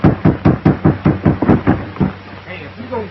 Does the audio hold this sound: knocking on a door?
yes